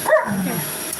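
A German Shepherd barks once or twice in short, close, loud bursts while a vacuum cleaner runs in the background.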